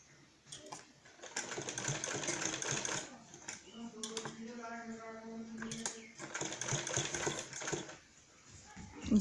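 Sewing machine stitching around a curved neckline on fabric, running in short bursts with pauses between, close and moderately loud, while someone talks over it.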